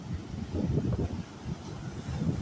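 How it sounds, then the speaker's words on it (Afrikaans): Strong seaside wind at a South African beach buffets the microphone in a steady, heavy low rumble that surges and eases for the whole stretch, with no voices over it. "klink na 45 knope, die wind"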